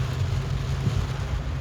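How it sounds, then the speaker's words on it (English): Heavy rain pours down hard during a drive, a dense, steady roar with low rumble that stays loud and unbroken throughout, with no voices. "I've never been on this side where the rain's hit this tough."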